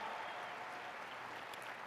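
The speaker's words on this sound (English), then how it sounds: "it deserves a big round of applause" Steady applause from an audience at a business opportunity meeting, a soft, even wash of clapping heard from a distance with no break.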